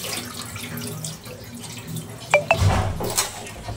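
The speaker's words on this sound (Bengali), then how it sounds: "আর এখন আমি প্রথমে চাউলটাকে ধুয়ে নিচ্ছি।" Parboiled rice being rinsed and rubbed by hand under a running kitchen tap, with a steady close rush of water and a few brief clinks and splashes near the end.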